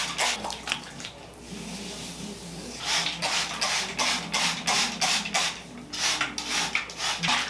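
Water poured over hair during a rosemary water rinse, a wet splashing and rubbing hiss that comes and goes in irregular bursts, close and fairly soft.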